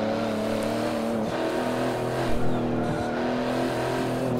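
A powerful racing car's engine revs under careful throttle in Forza Motorsport 7. The drone holds loud and steady, with harmonic tones wavering as the revs rise and fall and no speech over it.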